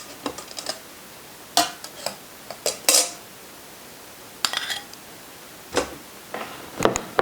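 A corned beef brisket is lifted out of an Instant Pot onto a dish, with sharp metallic clinks and clatters of utensils and cookware in scattered bursts, close by, with no talking.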